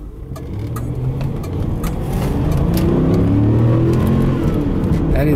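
A 1997 Oldsmobile Aurora sedan with a 4.0L V8 accelerates hard from a standstill to 40 mph at night, its engine roaring loud and close with a steadily rising pitch over about five seconds.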